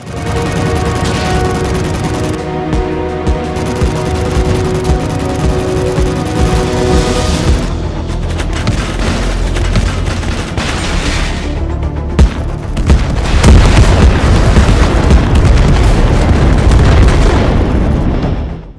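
Cartoon tanks fire shells from all guns, a continuous barrage of loud, heavy booms and blasts with rumbling, crackling explosions running throughout, close and intense.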